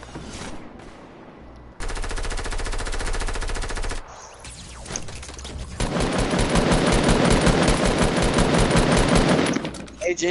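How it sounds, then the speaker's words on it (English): Fortnite gunfire rings out as loud bursts of rapid automatic shots, with a short pause between volleys and a longer sustained stream of fire toward the end. "hear your shot through it"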